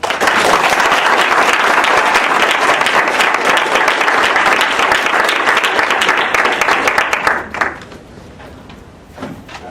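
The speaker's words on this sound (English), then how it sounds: "a warm round of applause to welcome him to the stage" A debate audience at Rutgers University gives sustained, loud applause to welcome a debater to the stage. The dense clapping holds steady for about seven seconds, then drops off sharply, leaving a few faint scattered sounds.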